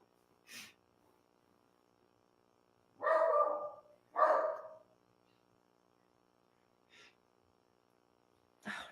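A dog barks at a man mowing the lawn outside: two loud barks about a second apart, with a few faint, brief clicks and yelps scattered before and after in an otherwise quiet setting.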